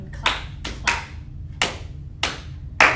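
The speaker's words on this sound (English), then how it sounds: "Clap, clap." Hand clapping in a children's chord song: five sharp, close claps in an uneven rhythm, mostly in pairs, over a soft low background hum.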